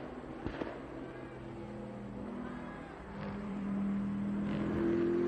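Race cars, including a Lamborghini, lap Watkins Glen during a SpeedTour weekend, their engines droning steadily and swelling louder toward the end, with a couple of sharp pops early on.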